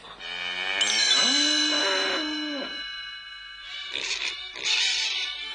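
A cow gives a long, loud moo that swells and fades, followed by a couple of shorter, rougher lows.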